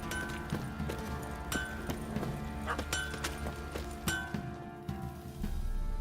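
Horse hooves clip-clop in an irregular walking rhythm over a dense, busy background of ambient sounds in the video game The Witcher 3, in Velen.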